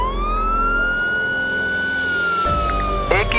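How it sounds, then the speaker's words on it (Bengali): A police car siren plays in a Bangla fox cartoon, one long rising then steady electronic wail up close, cut off near the end before a brief sound effect. "তারা বুদ্ধি করে একটি পুলিশের গাড়ির সাউন্ড বাজায়।"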